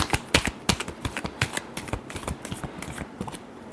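Tarot cards are shuffled by hand in a quick run of crisp, riffling flicks and taps, close and alone, with no talking over it.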